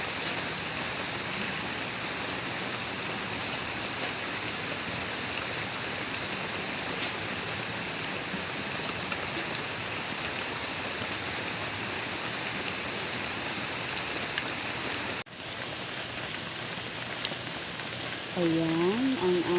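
Heavy rain roars steadily for a long stretch, dropping briefly near the end as a faint voice-like sound rises over the downpour.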